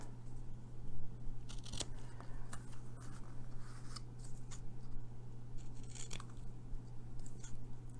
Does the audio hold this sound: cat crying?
no